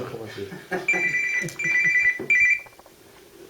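A mobile phone rings in repeated electronic bursts during a Turkish Quran commentary sermon, the ringtone sounding several times over a preacher's ongoing talk.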